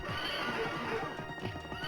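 A horse in a video game whinnies loudly and close, with hooves clip-clopping rhythmically beneath it.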